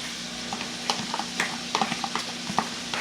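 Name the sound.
stir-frying green onions in a wok for seafood fried rice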